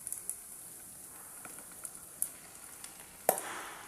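Pieces of lung sizzle faintly in a pan for Filipino bopis, a soft steady frying hiss broken by a few light pops and crackles.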